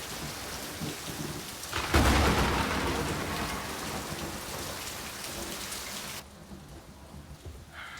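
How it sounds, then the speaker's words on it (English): Steady heavy rain with a loud burst of thunder rumbling in about two seconds in, the downpour continuing strongly and then easing, from a disaster film about an apocalyptic storm. "Get out of the rain, kid."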